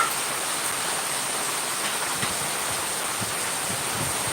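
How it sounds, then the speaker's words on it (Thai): Steady rain falls outdoors during a cooking session making northern Thai chili paste with mackerel, a dense even hiss throughout with no talk. "เพราะว่าฝนตก"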